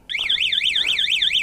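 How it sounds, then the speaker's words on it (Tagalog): A motorcycle anti-theft alarm goes off with a loud, continuous warbling electronic tone that rises and falls in quick regular sweeps, close by and steady throughout. "Pag ginalaw siya, nag-a-alarm."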